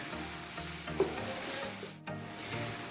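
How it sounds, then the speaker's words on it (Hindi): Chopped green chillies, tomatoes and onions fry in a pan with a close, even sizzle, one sharp clink of a utensil near the start and a brief scrape toward the end, no voices. "अभी हम इन चीज़ों को अच्छे से फ्राई कर लेंगे 2 मिनट तक।"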